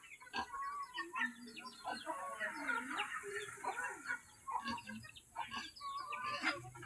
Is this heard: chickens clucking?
yes